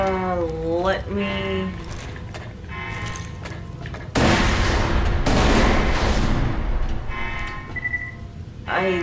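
In Borderlands: The Pre-Sequel, two heavy grenade blasts go off back to back midway through, each a loud, broad rumbling burst. Before them a voice talks, and faint game sounds are also audible.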